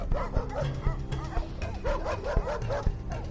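Several dogs bark and yip repeatedly in quick, overlapping bursts, fairly close, with some whimpering mixed in and a busy background.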